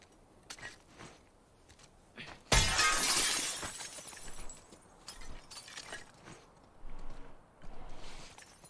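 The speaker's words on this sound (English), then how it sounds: "So you threw a brick through the glass to get another brick" In The Last of Us Part II, a thrown brick smashes through a glass window with one loud, bright shatter, then the tinkle of falling shards, and quieter footsteps and movement follow.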